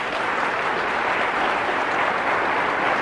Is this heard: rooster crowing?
no